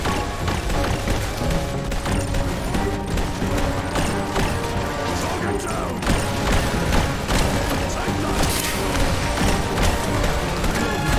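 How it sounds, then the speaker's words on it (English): Dense, relentless gunfire from the Red Solstice 2 sci-fi squad shooter pours out in overlapping rapid bursts, punctuated by crashing impacts and mechanical clatter, loud and continuous throughout. "Look at the bullet spam."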